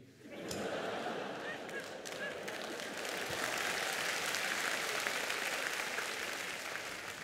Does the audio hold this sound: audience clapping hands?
yes